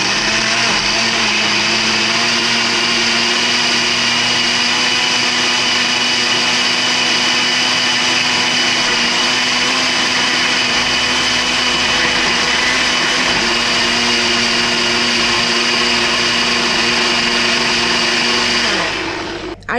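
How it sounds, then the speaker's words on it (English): A blender runs steadily for about twenty seconds, blending frozen acai bowl ingredients into a thick mix. The motor's whine stays loud and constant, with a low churning underneath, then cuts off abruptly at the end. "I'm gonna go ahead and put this on the blender now."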